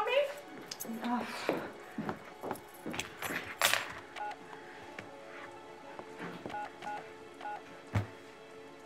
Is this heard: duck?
no